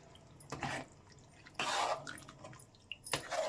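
A spoon mixes a thick curd chana masala in a pan, giving three separate wet, squelching scrapes with quiet pauses between them, close and fairly soft.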